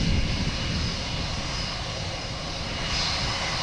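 An airplane climbs steeply after takeoff from Boston Logan Airport, a steady, moderately distant engine roar holding through the moment with no voices.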